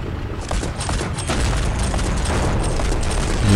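A tank's machine gun fires in the video game Hills of Steel during a winter battle, a dense rapid burst of shots rattling continuously and building slightly louder toward the end.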